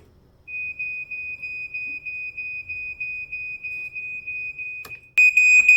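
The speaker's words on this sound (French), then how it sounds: "il émet un signal sonore strident et continu pour alerter les gens dans la maison" A shrill, high-pitched smoke alarm sounds in rapid pulsing beeps, then shifts to a louder continuous tone at the end.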